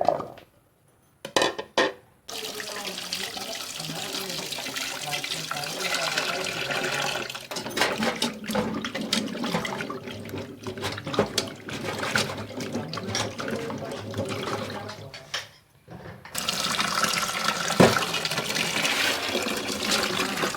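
Cut pieces of tapioca are washed in water, with running, splashing water sounding fairly close and steady, broken by a few short pauses and handling knocks. No one speaks.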